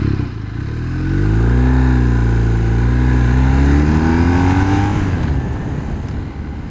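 BMW R1250R motorcycle engine fires up and revs, a loud, close, deep boxer roar that climbs in pitch, holds, then settles back to a rumbling idle, with no voices over it.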